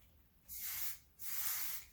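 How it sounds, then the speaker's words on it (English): Two short bursts of fine dry oil spray hiss from a pump bottle onto hair, each about half a second, close and soft with a pause between. "the dry oil spray again. Misting it over the top,"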